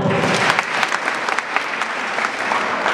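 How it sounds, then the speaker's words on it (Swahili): Steady, dense applause fills the hall for a parish choir on stage, many hands clapping continuously with small bursts throughout, near and loud without speech. "Tuwapigie makofi."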